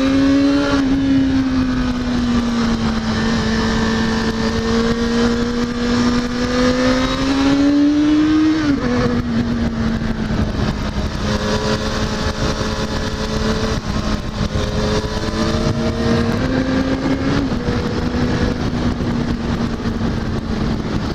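Motorbike engine in the racing video game Motorbike Explorer, a steady loud engine tone that climbs as it accelerates, drops briefly, then holds and revs again over about twenty seconds with no talking.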